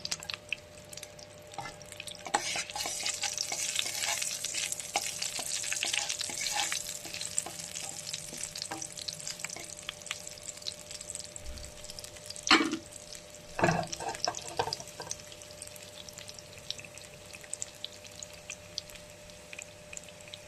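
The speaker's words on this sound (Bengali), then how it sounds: "তেল দিয়ে দিয়েছি, শুকনো লঙ্কা পুরো, রসুনটা আমি মধ্যে ভাজতে দিয়ে দেবো" Garlic and whole dried red chillies frying in oil before greens are added, a faint, even crackling sizzle running throughout with a few louder scrapes and clinks near the middle, close but quiet and without speech.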